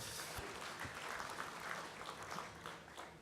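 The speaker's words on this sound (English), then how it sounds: "A round of applause for the board members there" A crowd applauds steadily, a dense patter of clapping that holds at an even level throughout, heard from a distance.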